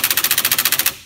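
Powerful impact tool hammering at a lawn mower blade bolt in a rapid burst of about a dozen sharp, even rattling impacts, loud and close, stopping abruptly.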